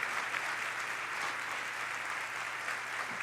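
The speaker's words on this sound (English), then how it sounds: "I want you guys to give them a very big round of applause" An audience gives a steady, sustained round of applause for a team of Brazilian Hyperloop designers, a dense and even wash of clapping from a crowd across the whole moment.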